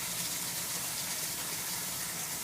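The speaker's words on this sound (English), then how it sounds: "I'm just filling it up all the way up to the top with lukewarm water." Lukewarm water gushes steadily from a tap into a container being filled to the top, a continuous close rush with no talk.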